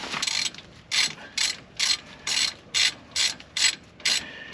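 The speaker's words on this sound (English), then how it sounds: "Set our ratchet to tightening." Ratchet tightening the drain plug on a 2018 Jeep Wrangler JL during drivetrain service, a close, crisp series of about nine evenly spaced clicking strokes with no talk.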